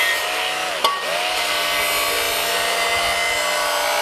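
Belt grinder sharpening a Cold Steel Special Forces shovel on a 220-grit Norton belt, a loud, continuous abrasive grinding roar close up, with a brief bump as the metal shifts early on.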